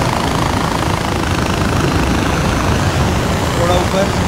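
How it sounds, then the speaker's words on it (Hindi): A helicopter flies in the video game Far Cry 4, giving a loud, steady, whirring engine drone that holds without a break, with a voice audible over it. "भाई ये हेलीकॉप्टर बेस्ट है भाई, बेस्ट है हेलीकॉप्टर तो"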